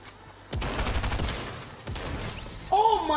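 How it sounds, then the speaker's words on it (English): Rapid bursts of gunfire in the video game Fortnite, a dense fusillade of shots that starts abruptly, pauses briefly and resumes, loud and close. "I heard some gunshots over here."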